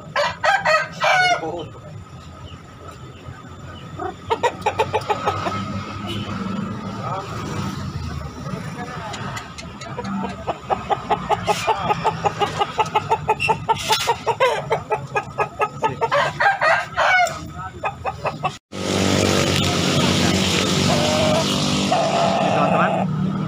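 Bangkok breed roosters crowing loudly and repeatedly nearby at a chicken market in Makassar, with clucking and rapid chattering calls between crows, and people talking at times.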